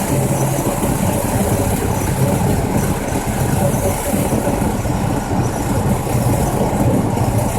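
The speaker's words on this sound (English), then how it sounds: "I just love to hear that exhaust sound in the background." Old 1965 Ford F250 pickup driving, its engine and exhaust giving a steady low rumble that stays even and close, with a person talking over it.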